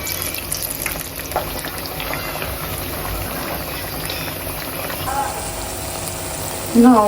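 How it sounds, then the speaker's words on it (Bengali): Potato chops (aloo chop) frying in oil, a loud continuous bubbling hiss close by, with a brief louder clatter near the end. "এখন ভাজতেছি আলুর চপ।"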